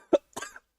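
One person gives a single sharp cough followed by a rougher, rasping second cough, both close and brief, with silence after.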